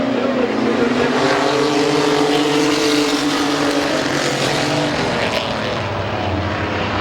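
Race cars roar around the oval at Midvale Speedway in a loud, continuous engine drone that rises and shifts in pitch as the pack passes, with no voices audible.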